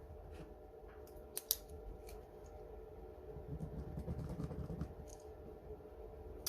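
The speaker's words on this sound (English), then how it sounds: "I'm just going to snip that off" Scissors snip craft material beside a brick in a home workshop, giving a couple of sharp close clicks early on and then softer handling noises over a low steady background hum.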